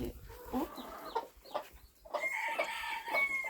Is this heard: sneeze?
no